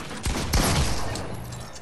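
Gunfire in the video game Fortnite: two sharp, loud shots in quick succession near the start, each trailing into a ringing decay that fades across the rest of the moment.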